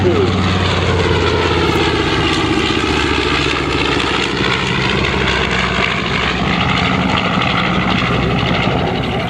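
A World War II Aeronca L-16 propeller warbird flies past at an air show, its engine a loud, continuous drone that swells and shifts in pitch as it crosses overhead.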